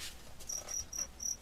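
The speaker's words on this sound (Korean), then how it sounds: "여기 안에 얘네 귀뚜라미 있단 말이야." Crickets held inside a container give several short, bright chirps in a regular rhythm, close and clear over a faint background, with no talking.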